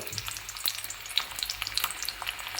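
Chopped garlic sizzles and crackles steadily in hot oil in a Kerala-style pork fry, with sharp pops and spatters over a constant frying hiss, close and fairly loud, with no talking.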